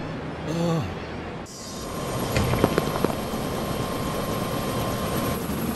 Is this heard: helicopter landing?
yes